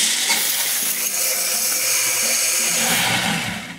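A food processor grinding peanuts, a steady loud whirring grind that runs continuously, then starts to wind down at the end.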